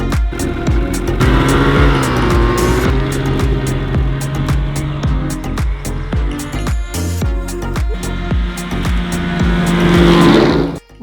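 Snowmobiles running loud and close in snowy Iceland, engines droning steadily and revving up and down for the whole stretch without pause.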